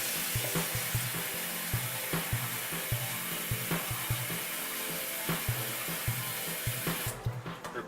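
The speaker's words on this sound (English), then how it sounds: "I will run cold water on them and just let the water run." Cold tap water streams over boiled eggs in a metal pot, a continuous splashing rush punctuated by regular knocking thuds as the eggs shift, ending with the flow changing near the close.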